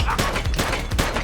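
Rapid bursts of gunfire from police officers in The Precinct video game, several loud cracks in quick succession with no speech over them.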